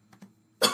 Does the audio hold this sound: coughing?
yes